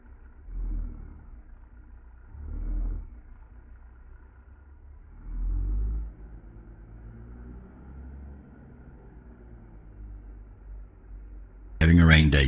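A truck engine in a trucking video game, with the truck driving along on a rainy day. A low rumble surges and fades in repeated swells while a person talks over it, and a sharp bright burst comes near the end.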